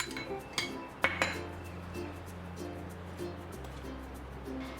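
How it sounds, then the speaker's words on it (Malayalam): Spoon scrapes and clinks against a bowl as murukku flour is mixed with melted butter, with a few sharp knocks early on, then quieter stirring. "ഇതിലേക്ക് കാൽ കപ്പ് ബട്ടർ ഉരുക്കിയത് ഒഴിച്ചിട്ട് ഇത് നല്ലതുപോലെ മിക്സ് ചെയ്തെടുക്കാം"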